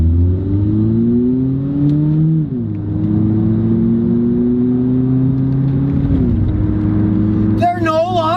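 Car with a faulty, slipping transmission accelerating as gears are shifted manually, engine drone rising in pitch then dropping at each shift, loud and steady throughout.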